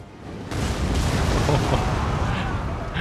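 Artillery fire in Total War: Rome 2 booms across a battlefield, a dense, sustained rumble of shots and impacts that swells after a quieter start and stays loud throughout.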